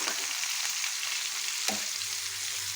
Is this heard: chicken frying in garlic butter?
yes